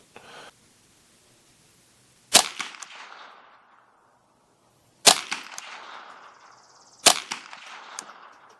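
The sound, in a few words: custom Ruger 10/22 firing Aguila Super Extra .22LR hollow points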